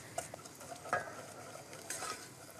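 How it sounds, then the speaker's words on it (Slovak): A wooden spoon stirs melting sugar in a pan for caramel, giving soft, close scraping strokes over a faint steady sizzle, with no talking. "Už keď sa začína takto pomaly rozpúšťať cukor, tak vtedy môžete už trošku to vareškou tomu pomôcť."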